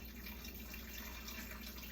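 Water running steadily from a tap while basmati rice is washed, a constant splashing hiss with no talk.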